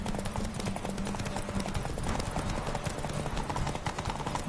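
A mare gallops at full speed in The Witcher 3, with loud rapid hoofbeats close by in a continuous driving rhythm over a dense background of game sound.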